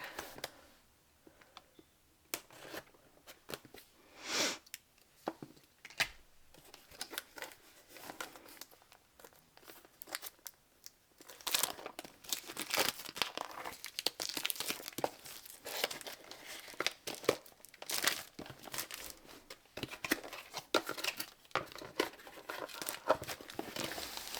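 A diamond painting kit package is cut open and handled, giving close crinkling plastic, tearing and scattered clicks that grow busier and louder in the second half.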